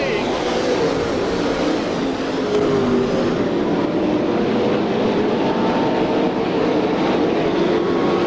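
Sprint cars race around Sharon Speedway in Hartford, Ohio, a loud continuous engine roar with a shifting pitch as the field passes, under an announcer's voice.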